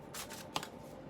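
Shiny cards from a 78-card Elemental tarot deck are handled and riffled close by in a short, quiet burst of papery flicks with one crisper snap in the middle and no talking.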